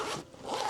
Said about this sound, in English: Now let's zip that up.